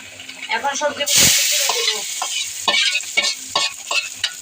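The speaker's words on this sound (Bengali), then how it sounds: "এখন ভালো করে নাড়তে কিছুক্ষণ রাখবো।" Puishak and dhundol vegetables fry in a pan while being stirred, a loud sizzling hiss with rhythmic scraping strokes and a brief surge of steam early on.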